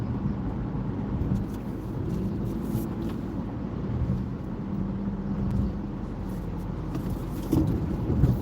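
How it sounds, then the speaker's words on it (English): Cars stream past in heavy morning road traffic, a continuous low rumble and tire roar heard from inside a moving vehicle, steady throughout with a slight swell near the end. "The volume of traffic is incredible here."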